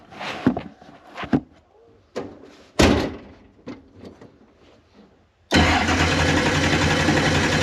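A turbocharged 5.3 V8 starts in a driveway. Scattered clunks and knocks lead into the engine catching and settling into a loud, steady run near the end.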